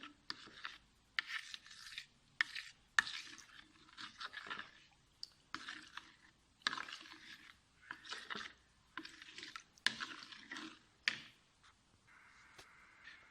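Close, quiet scraping and swishing of a spoon stirring starch into water, repeated strokes with short pauses between them, no talking.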